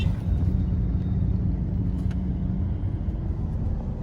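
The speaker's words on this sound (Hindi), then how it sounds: "एक बार आप आगे ट्रैफिक देखो" Road traffic rumbles as a continuous low, heavy drone of vehicles close by, steady throughout with no clear voices over it.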